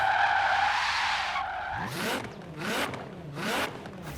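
A 565 hp 2017 Nissan GT-R in Forza Horizon 3 pulls a handbrake turn, its tyres skidding and squealing in repeated loud swooping bursts over engine noise, with no talk.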